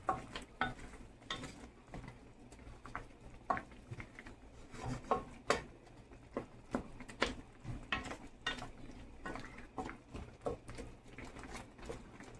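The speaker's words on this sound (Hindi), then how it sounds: "अब हम इसमें कुटी हुई लाल मिर्च थोड़ी डालेंगे और इन सब स्पाइसेस को हम अच्छी तरह से मिक्स करते हैं" Crushed red chili and spices being stirred in a pan for Ethiopian lamb firfir, with soft, irregular scraping and clinking of a utensil against the pan under a faint sizzle, fairly quiet throughout.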